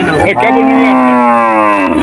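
A calf at a busy cattle market gives one loud, close, sustained moo lasting under two seconds, rising then falling, over background crowd noise.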